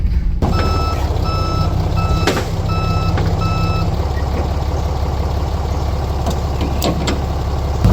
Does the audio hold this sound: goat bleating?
no